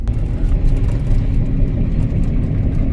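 A combine header runs with its reel and auger spinning, giving a loud, steady mechanical rumble and engine drone at close range.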